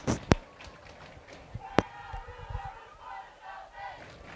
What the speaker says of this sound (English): We got that South End cheer going on again.